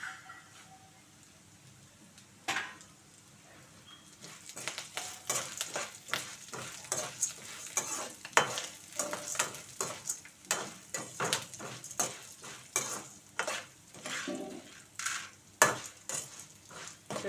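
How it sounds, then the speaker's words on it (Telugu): Spices frying in a pan for karappodi, with curry leaves tossed in, giving a steady close crackle and sizzle broken by repeated sharp stirring scrapes and taps of a utensil against the pan. "వేగుతున్నాయండి దీనిలోనే కొంచెం కరివేపాకు కూడా వేసేద్దాం"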